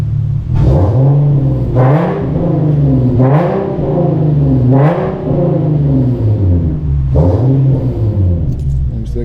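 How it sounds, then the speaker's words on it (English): Nissan G37 with a VQ V6 engine revved repeatedly in short, loud throttle blips, about five rises and falls of pitch, close up with no talking. "ready for some revs though"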